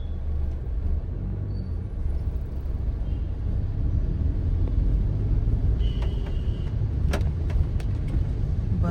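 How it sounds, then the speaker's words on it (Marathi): A continuous, loud rumble of road traffic in Mumbai during rain, with cars and engines passing close by and a few brief higher-pitched sounds near the end. "इकडे आज ट्रॅफिक आहे"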